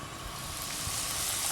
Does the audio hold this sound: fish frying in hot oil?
yes